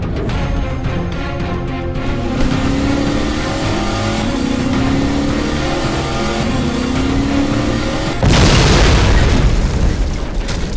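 A truck in the Garry's Mod video game drives over a spike strip, its engine droning and revving loudly with a rising whine, then a sudden burst as the tires pop and a harsher rushing roar follows.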